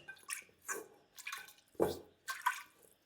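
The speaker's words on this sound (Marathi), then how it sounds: "थोडस कुकर धुवून टाकायचं" Water splashes and swirls in a pressure cooker being rinsed after cooking chicken curry, coming as several separate close sloshes with quiet gaps between them.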